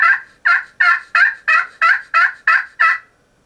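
Nine crisp, evenly spaced turkey yelps from a friction call played with a striker, loud and close, with nothing else in the background.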